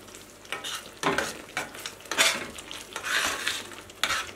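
A spoon stirring green fesenjan with chicken and freshly added coriander in a pot, with a soft sizzle and occasional scrapes and clinks against the metal, close and steady with no talk.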